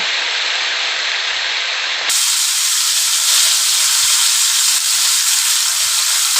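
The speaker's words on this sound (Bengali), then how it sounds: "তেলটা গরম হওয়ার পর আগে থেকে মশলা মাখিয়ে রাখা মাছটা দিয়ে দিলাম" Marinated tilapia fish drops into hot mustard oil in a pan, and a loud, close sizzle swells suddenly and keeps spitting and hissing steadily afterward.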